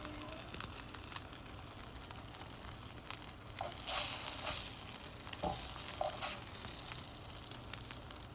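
Cauliflower fries in a hot pan with a steady close sizzle, and brief scraping and clattering bursts come through as the pieces are flipped.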